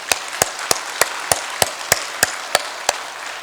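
Congregation at Hanbat First Church clapping in praise to God, about ten sharp, evenly spaced claps in a slow, steady rhythm, loud and close, with no voices over them.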